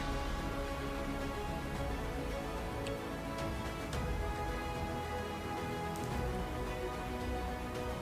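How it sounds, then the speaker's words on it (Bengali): Heavy rain over North Bengal during a storm: a continuous, fairly faint wash of rainfall with scattered sharp drop ticks and no voices. "এবার শুরু হয়েছে বৃষ্টি সঙ্গে ঝোড়ো হাওয়া ও বজ্র বিদ্যুৎ"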